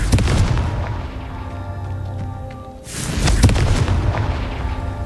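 The Confringo fire spell from the video game Hogwarts Legacy goes off in loud booming blasts, dense and rumbling at the start. After a brief dip, a second sharp explosion follows and rolls on, with no talk over it.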